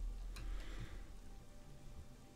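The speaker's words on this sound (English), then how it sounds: "Still hope they fix this at some point so it's not raining inside." Rain patters steadily indoors through small holes in a roof in the game Conan Exiles, a faint continuous hiss with scattered droplet ticks throughout.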